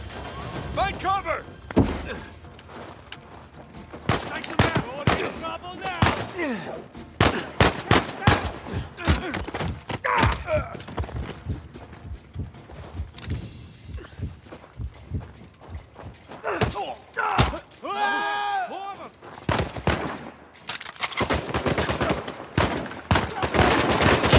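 Gunfire in the Uncharted 4 video game during a firefight, sharp repeated shots and heavy thuds scattered irregularly across a long stretch, with loud sniper-like cracks, while a player shouts and talks intermittently.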